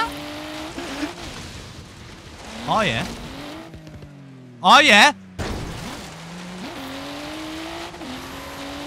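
An all-wheel-drive car with rally suspension in Forza Horizon 3 whines through rising and falling engine revs with brief tire squeals. Someone talks and exclaims over it.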